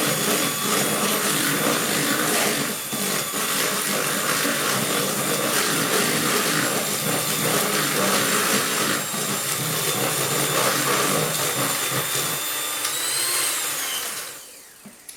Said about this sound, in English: I'm going to give these eggs a whisk just for a moment or two